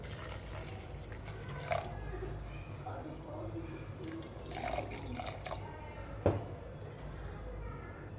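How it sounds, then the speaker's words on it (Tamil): Water poured into a blender jar over chopped green beans, a steady wet splashing and trickling with a few sharper drips, heard close under continuous talking. "தேவையான அளவு தண்ணி ஊற்றிக்கலாம்."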